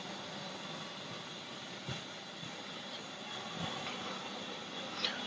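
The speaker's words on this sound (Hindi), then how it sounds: "देख सकते हो कि इसमें हवा फिल हो रही है।" A digital tyre inflator at a petrol pump fills a tyre with air, producing a steady, unbroken hiss and hum with a few faint clicks over five seconds.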